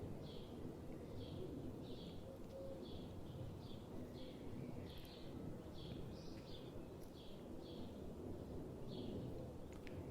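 Faint birds call repeatedly in short regular phrases over a low outdoor hum, distant and quiet.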